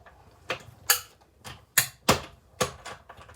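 A die cutting machine runs paper and a clear cutting pad through its rollers for a Christmas shaker card, giving about seven sharp, separate clacks at an uneven pace, close and fairly loud.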